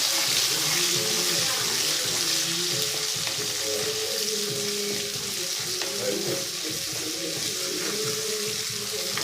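Asafoetida powder sautéing in hot oil in a pan for upma, a loud continuous sizzle and crackle with occasional stirring sounds, a faint voice now and then underneath.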